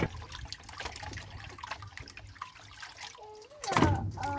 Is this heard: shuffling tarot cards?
no